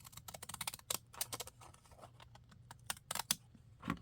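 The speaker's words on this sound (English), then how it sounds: "I can take my, my fancy pants scissors and just make a little" Decorative scissors snip paper for a handmade junk journal, a quick run of close, crisp cutting clicks in uneven bursts with short pauses between them, heard alone.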